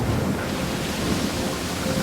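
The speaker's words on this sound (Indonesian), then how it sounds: "Betapa takutnya Yunus melihat ombak yang sangat besar yang sedang menerpa kapal yang ia tumpangi." Huge storm waves pound against a ship at sea, a dense, continuous roar of crashing water and wind with rumbling undertones, loud and unbroken, with no voices.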